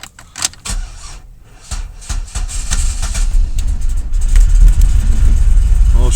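An old used car's engine cranks and catches after a few sharp clicks and bumps, then settles into a rough, uneven idle that grows louder and heavier toward the end, with no voices over it.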